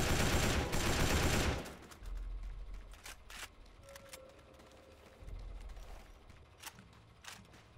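A BAR automatic rifle fires in the Pacific-war shooter Battle for the Pacific, with a loud sustained burst at the start, then scattered shots and mechanical clicks of a quick reload.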